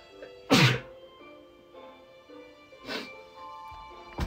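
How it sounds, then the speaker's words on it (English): A person sneezes twice into a shirt, two sharp, muffled bursts a couple of seconds apart, close by, with a quieter blip at the very end. "that's me sneezing into my shirt."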